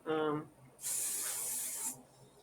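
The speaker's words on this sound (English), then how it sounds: "You can spray some of that" A brief voiced sound comes first, followed by a single steady hiss of hair spray lasting about a second, close and fairly quiet.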